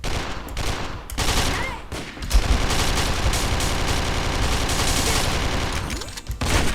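Sustained automatic fire from a P90 in the online shooter Sudden Attack, poured into a box as a dense, unbroken stream of loud rapid shots with a brief pause near the start.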